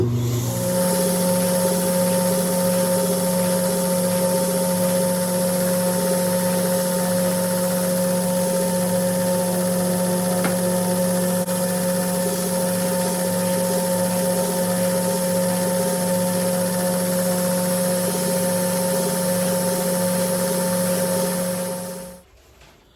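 A knife blade is ground on 400 grit under a steady, loud mechanical whine that holds constant for over twenty seconds before cutting off abruptly.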